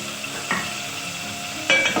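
Tomatoes fry in hot oil in a pan for mutton karahi, giving a soft, steady sizzle with a couple of faint clinks from a utensil.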